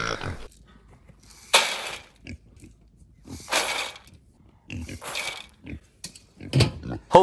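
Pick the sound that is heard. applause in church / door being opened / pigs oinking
pigs oinking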